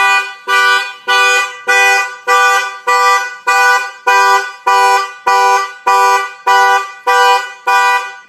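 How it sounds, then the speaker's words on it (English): A factory car alarm blares in a fast, regular series of loud, harsh horn-like honks, about fourteen identical blasts evenly spaced, close and with no voices. "If anybody walks up and bangs on the window, the alarm will fire off."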